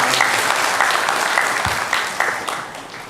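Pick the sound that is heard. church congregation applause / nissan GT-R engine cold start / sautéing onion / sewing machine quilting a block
church congregation applause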